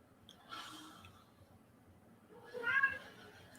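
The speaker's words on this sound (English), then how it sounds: "You hear my cat going crazy?" A male cat meowing and yowling excitedly indoors, a couple of moderately loud calls, the strongest near the end, over low background hum.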